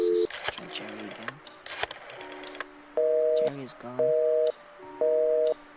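Telephone in the video game Scratches: a few quick dialing tones and clicks, then a repeating busy signal in three evenly spaced beeping bursts, with a voice speaking briefly near the start.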